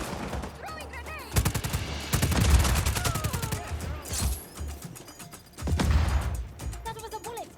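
Gunfire in the video game Just Cause 4, with rapid bursts of automatic shots and loud impacts close by, mixed with enemy radio chatter and voices calling out.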